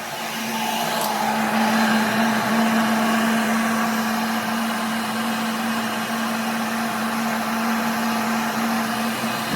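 A heat gun blows a steady, loud whirring drone close by while heating vinyl upholstery on a 1970 Ford F-100 bench seat in a trim shop, holding an even pitch throughout with no talk.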